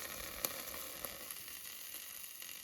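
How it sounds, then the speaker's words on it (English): Soft, steady sizzling of food cooking in a Cosori dual-basket air fryer, quiet and close, with a few faint clicks and no talking. "Wow, can you hear the sizzle?"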